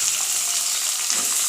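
Beetroot and carrot frying with onion in a hot pan give a continuous loud, hissing sizzle, close and steady, with slight stirring movement.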